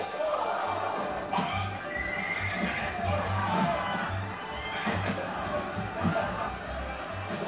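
Horses whinny and hooves clip-clop over a busy background of crowd noise and chatter.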